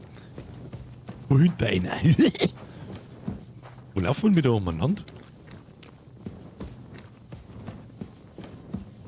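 Horse hooves clip-clop steadily in the video game Kingdom Come: Deliverance 2, a quiet rhythmic walking beat running beneath a man's intermittent speech.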